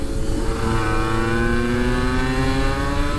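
A 125cc motorcycle engine accelerates out of a bend on a ride, its rising, buzzing drone held loud and close for a few seconds, with no talking.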